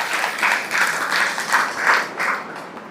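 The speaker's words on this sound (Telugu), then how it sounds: "సరే, సాయి నామానికి చప్పట్లు కొట్టండి అందరూ." Audience applause at a Sai devotional bhajan and satsang gathering, steady group clapping sustained throughout, fairly close with gentle swells and no speech over it.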